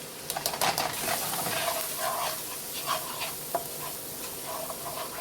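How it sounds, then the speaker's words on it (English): A spoon stirs flour into a roux in a pan for creamed spinach with sour cream, scraping steadily against a soft sizzle, close and moderately loud with no talk. "You just stir it till it's real combined, like it's making a roux."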